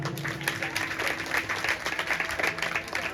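A crowd at a Bhagavat Katha religious gathering breaks into dense, continuous applause, many hands clapping together loudly and steadily for a few seconds.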